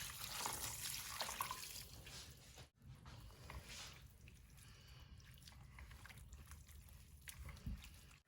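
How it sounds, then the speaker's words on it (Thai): Sticky rice being washed by hand in boiled tap water before making sato rice wine, with continuous sloshing, swishing water and occasional drips, close up and with no talking. "เราก็จะล้างข้าวเหนียวทั้งหมดนี้นะคะ"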